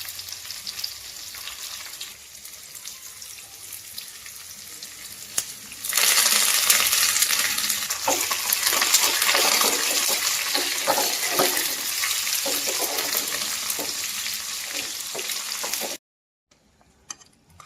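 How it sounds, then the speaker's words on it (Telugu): A cumin, onion and curry leaf tempering for bottle gourd curry sizzles loudly and continuously, flaring up sharply about six seconds in and then sputtering steadily before cutting off abruptly near the end. "తాలింపు పోసేసుకొని తాలింపు ఇలా మొత్తం ఒకసారి కలిపేసుకోవాలండి."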